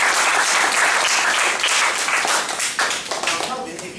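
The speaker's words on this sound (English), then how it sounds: "Let's give Kelvin a round of applause" Applause at a Toastmasters club meeting after a speech evaluation: a steady, full round of clapping from the room that thins out into a few scattered claps near the end.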